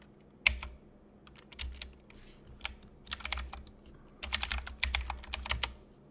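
Quick bursts of keystrokes on a computer keyboard, typed in uneven clusters with short pauses, close and fairly quiet over a low steady hum.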